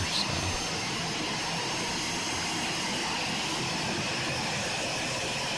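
Steady broadband jet engine whine and rumble from an Aerobask Eclipse 550 NG taxiing in a flight simulator at KABQ, a constant drone with a slight bump at the start and no voices.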